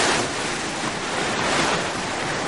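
Ocean water rushes in at Laguna Beach, a loud, continuous roar of surf and churning waves close by, heavy with wind buffeting the microphone, with no voices over it.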